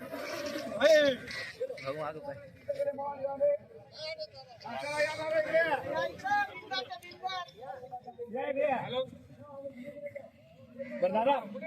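A calf bleats several times in short, wavering cries among people talking nearby at a cattle market in Chalisgaon, the calls close and fairly clear.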